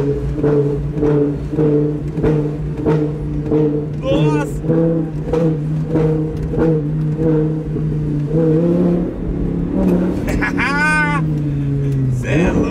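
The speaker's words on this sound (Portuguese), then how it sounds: "o carro tá engasopado a monstro" An Audi R8 engine idles roughly on a night drive and sputters, with a couple of short revs rising over its steady low rumble.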